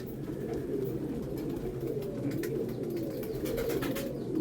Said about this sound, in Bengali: এই পায়রা কালশিরা পায়রা বাড়ির বাচ্চা